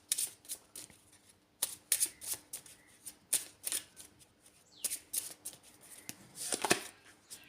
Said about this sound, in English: So I'm going to use the Angel Whispers cards.